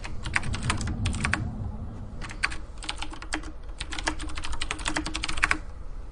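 Fast, uneven computer keyboard typing during a StarCraft-style PvZ match, bursts of sharp clicks with brief pauses, close and fairly loud over a low background hum.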